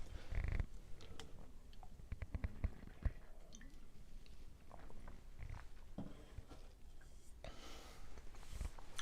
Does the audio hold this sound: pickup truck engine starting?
no